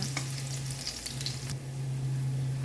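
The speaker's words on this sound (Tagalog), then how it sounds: "Kunting halo-halo lang hanggang makuha natin yung tendency ng bawang na maging brown siya." Garlic fries in a pan while being stirred, a steady close sizzle broken by light clicks and scrapes of the spoon, with no voices present.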